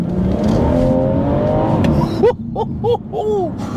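A BMW M240i tuned with Bootmod3 Stage 2+ pulls hard from inside the cabin, its engine droning and rising loudly before quick gear changes bring sharp rev swoops.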